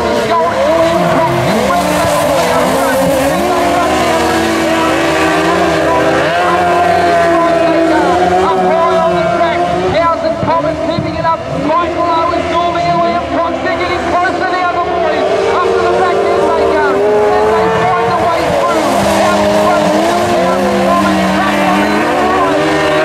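Race cars pulling away together at a racing start, a loud, continuous layered roar of engines with shifting pitch and some tyre squeal, with a commentator talking over it throughout.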